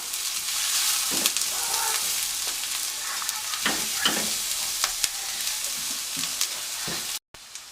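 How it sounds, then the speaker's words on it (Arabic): Garlic cloves and onion sauté in a pan with a steady soft sizzle. Occasional stirring scrapes come through up close, and the sound cuts out briefly near the end. "بس بعد كده هنزل بفص الثوم هشوحهم برضو مع البصله."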